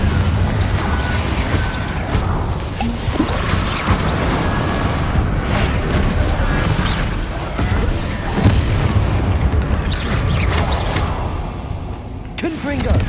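Explosive Confringo spells blast repeatedly in the Hogwarts Legacy video game, a dense, continuous barrage of booms and crackling impacts layered over loud combat effects and shouted spell names.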